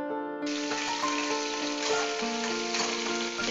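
Taro leaves frying in a pan, stirred now and then, give a steady close sizzle with soft scraping over a constant hiss.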